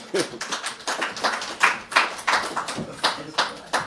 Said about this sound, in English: I think we can give Peter a round of applause, please.